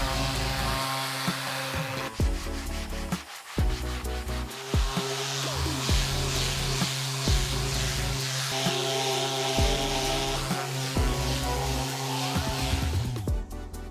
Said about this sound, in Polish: Do tego celu najlepiej użyć szlifierki z padem diamentowym o gradacji 50